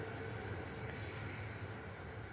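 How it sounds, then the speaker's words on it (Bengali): A train runs steadily as a sound effect in a narrated Bengali ghost story, with a low continuous rumble of wheels on rails and a thin metallic squeal, heard faintly throughout. "ট্রেনের শব্দের জন্য তিনি আমার প্রশ্নটাই শুনতে পাননি"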